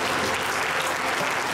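Church congregation applauding during a worship service, a loud, continuous roar of many hands clapping close by, full and unbroken throughout.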